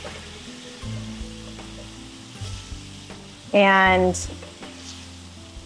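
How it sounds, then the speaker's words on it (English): A pan holding steak juices and browned bits sizzles loudly as hot water is poured in to deglaze it, a sudden burst of hissing and spattering that lasts under a second before settling back, with a voice speaking briefly. "I'm just gonna deglaze it"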